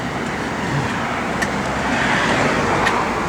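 A 1969 Plymouth GTX with its matching-numbers 440 engine idles steadily after starting, a continuous low rumble with a faint hiss, heard up close and alone with no talk.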